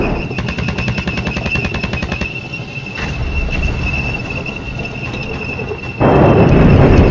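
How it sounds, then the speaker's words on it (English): Rapid bursts of automatic gunfire rattle continuously amid Flashpoint Campaigns game sound effects and explosions, with a louder blast near the end. "There we go, more gunfire."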